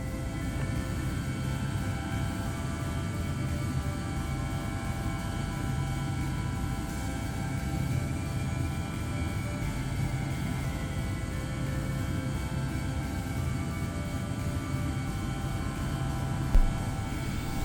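Steady, loud cabin drone of an EasyJet Airbus A319 in flight in Microsoft Flight Simulator 2020, a constant broadband engine and airflow roar with low hum, unbroken throughout with no talk.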